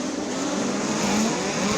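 USAC midget race cars at Belleville Short Track power up at the green flag. Their engines make a dense, loud, sustained roar with a steady pitch across the brief moment, and no voice is heard over it.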